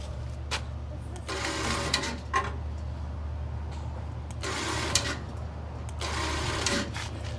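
A winch strains to drag a 1994 Chevy Silverado Z71 backwards, heard as a low steady drone broken by repeated bursts of grinding, ratcheting mechanical noise at moderate distance.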